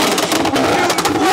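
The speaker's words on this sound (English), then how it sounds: "I just want to give you guys the opportunity to hear what this thing sounds like." A McLaren 765LT tuned to about 1000 horsepower, its engine revving loud and close with a rough, rising and falling howl.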